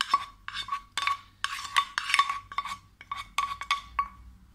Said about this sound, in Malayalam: മിക്സ് ചെയ്ത് കൊടുക്കുക.